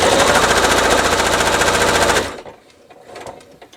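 A sewing machine runs steadily at speed, stitching churn dash charity quilt block sections, with a close, fast even rattle for about two seconds before stopping, followed by faint handling noises.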